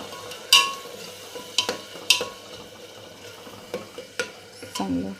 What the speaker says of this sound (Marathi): चांगलं हलवून घेतलं.